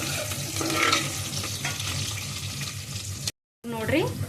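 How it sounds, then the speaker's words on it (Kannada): Onions fry in a pan with a steady sizzling crackle, mixed with stirring and scraping, close and fairly loud, broken by a brief gap near the end before the sizzle resumes. "ಈರುಳ್ಳಿ ಹಾಕೊಂತಿದ್ದೀನಿ. ಸ್ವಲ್ಪ ಇದು ಫ್ರೈ ಆಗಬೇಕು."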